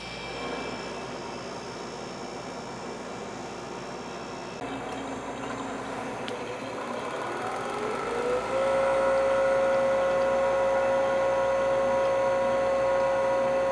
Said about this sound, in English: It's very similar to that noise.